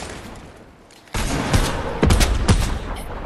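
Stormtrooper blaster guns fire in a video game: after a quiet lead-in, a loud burst of rapid shots erupts, with several sharper impacts standing out over the clatter.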